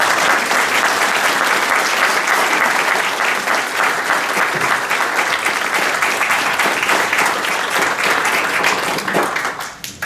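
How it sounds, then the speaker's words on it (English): Sustained audience applause at an evening political candidate forum in Rochester, Minnesota, with dense steady clapping from a full room for about ten seconds, thinning out at the very end. "So join me in a big round of applause."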